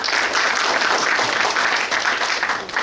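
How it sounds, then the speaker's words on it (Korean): Applause for councillor Jeong Young-kyun at a public forum on founding a new middle school attached to Suncheon National University's college of education, a dense, steady burst of clapping from an audience lasting a few seconds. "이조 발언해 주신 정영균 의원님께 큰 박수 부탁드리겠습니다."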